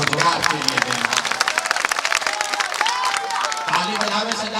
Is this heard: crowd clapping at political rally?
yes